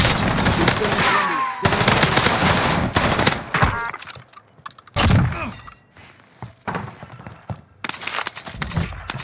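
Call of Duty Rebirth Island gunfire comes in loud, rapid automatic bursts that cut in and out with sharp single shots and thuds between them, mostly close and harsh, broken by short quieter gaps.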